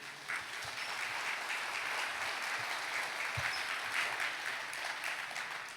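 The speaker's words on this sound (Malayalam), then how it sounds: "ഒന്ന് കൈ ഉയർത്തി കൈയടിച്ചേ" A church congregation at a Malayalam prayer service claps with raised hands, a steady sustained burst of many hands filling the room, with a few heavier thumps underneath and no talking.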